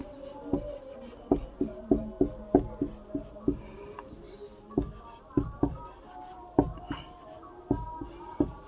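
Pen writing a Pythagoras theorem solution by hand, a series of short, close scratchy strokes in an irregular rhythm with brief pauses, and no talking.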